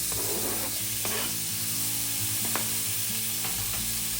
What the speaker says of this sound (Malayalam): തക്കാളി അരിഞ്ഞ് ചേർത്തിട്ട് ഒന്ന് വഴറ്റിയെടുക്കാം.